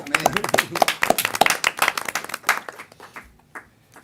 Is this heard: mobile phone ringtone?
no